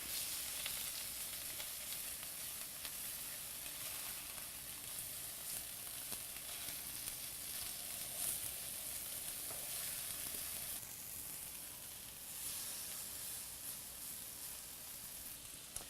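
Salisbury steak patties sizzle steadily in a hot pan while being flipped, a constant bright frying hiss with small crackles throughout, fairly quiet and with no talking.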